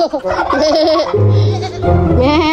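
Young goats on a small farm in Batangas bleating close and loud, several wavering cries in succession, with a voice in the background.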